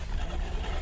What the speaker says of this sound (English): It's growling like a lion.